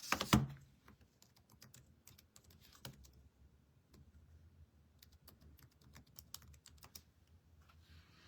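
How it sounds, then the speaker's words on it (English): Computer keyboard typing, soft and fairly distant, with scattered key clicks and short bursts over low room noise after a brief louder rustle at the start. "Bring the keyboard up and find out what this means."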